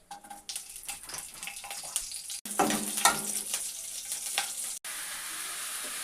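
Panch phoron spices and green chillies hit hot oil with a loud, steady sizzle that flares up sharply midway and keeps crackling, with brief clatters of stirring and no voices.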